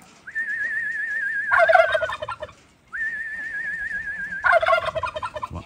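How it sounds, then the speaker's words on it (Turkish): A pet woodcock gives two rising whistled calls, each drawn out and ending in a rough gobbling burst, close and clear with a short silence between them. "Bizim cullukta kendine gelmeye başladı,"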